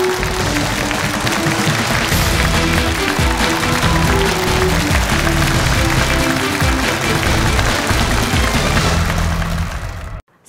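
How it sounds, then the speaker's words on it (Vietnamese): Studio audience on a Vietnamese game show bursts into loud, continuous applause with music over it, sustained at full level before cutting off abruptly. "chúng ta dành một tràng pháo tay thật lớn nữa để chào đón sự trở lại của người chơi chính chúng ta, bạn Thu Hà."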